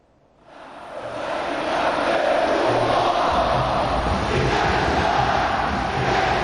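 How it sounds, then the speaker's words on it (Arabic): Stadium crowd roaring and cheering on a football night, rising from near silence to a loud, sustained wash of massed voices with a low rumble underneath, no single speaker standing out. "سمعنا صوت الجمهور"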